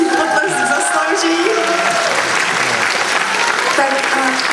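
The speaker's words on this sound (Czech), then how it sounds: "Tak děkujeme Dominikovi, já si myslím, že si potlesk zaslouží" Audience applause at the Cantate Domino 2005 church music event, a loud, continuous round of clapping with a presenter's voice and some tonal sounds carrying over it throughout.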